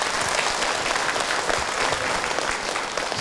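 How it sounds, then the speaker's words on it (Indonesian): Audience at an Indonesian Islamic lecture claps for the preacher, a dense, continuous burst of crowd applause that holds steady throughout, loud and without talk on top. "Baik, tepuk tangan untuk Ahilman."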